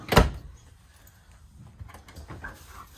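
A large storage drawer in a 2024 Jay Flight 235MBH camper slides open with a sharp thump and rolling rumble, followed by faint rattles and small knocks as it settles.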